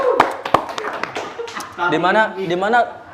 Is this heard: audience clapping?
yes